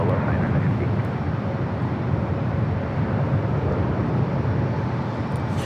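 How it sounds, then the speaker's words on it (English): A Japan Airlines Boeing 787-9 Dreamliner takes off at LAX, bound for Tokyo Narita, as a steady, broad jet roar holds at an even loud level without letting up, with no voices over it. "This is takeoff Japan Airlines Flight 61, taking off to Tokyo Narita on the 787-9 Dreamliner"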